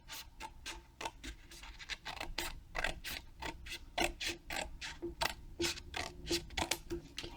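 A thin piece of wood is cut away into a strip for a handmade card, with a long series of quick, evenly spaced scraping strokes close by and no voices.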